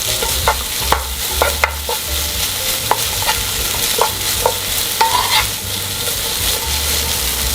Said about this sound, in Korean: 마늘 1스푼도 같이 넣어서 볶아주세요. 그래서 같이 기름에 볶아주세요.